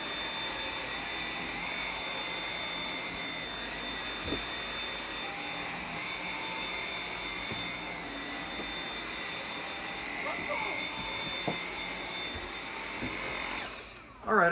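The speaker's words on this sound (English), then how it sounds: "Let's go ahead and vacuum this half." Dyson V7 Absolute cordless vacuum cleaner running steadily while vacuuming dirt from half of a floor, a constant close whine with small knocks and clatters, cutting out at the end.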